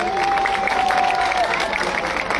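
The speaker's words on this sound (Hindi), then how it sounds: "ताली बजा दीजिए आप लोग राज्यपाल यादव जी के लिए" Applause from an audience gathered at a public event, a brief patter of clapping under a faint voice and crowd murmur, fairly even throughout.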